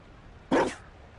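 A single short dog bark in Dragon Age Inquisition, close and clear against quiet background.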